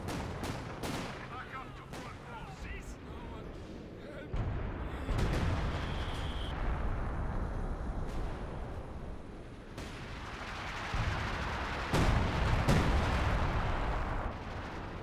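Distant booming artillery and scattered gunfire in a Company of Heroes 2 tank battle, a steady rumbling wash of combat with periodic heavier thuds, while a commentator talks over it.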